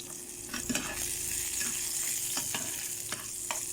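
Onions sautéing in a pan after garlic for papaitan, a steady close sizzle punctuated by several scraping stirs of a utensil against the pan, with no voices.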